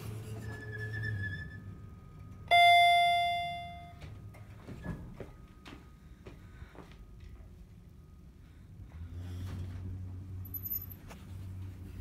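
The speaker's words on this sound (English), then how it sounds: "Hit this bell one more time." A single bright elevator bell chime rings out and fades, surrounded by quiet mechanical ticks and clicks and a low hum.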